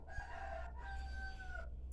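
A rooster crows two times in a row, fairly clear and moderately distant, with a low background hum and no talking.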